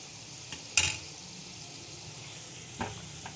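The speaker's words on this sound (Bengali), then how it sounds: "সেই জন্য একদম সিম করে নিয়ে ধৈর্য ধরে এগুলো ভেজে নিতে হবে।" Sweet potato pantua frying slowly on a low simmer, giving a soft, steady sizzle with a couple of faint clinks, close but quiet.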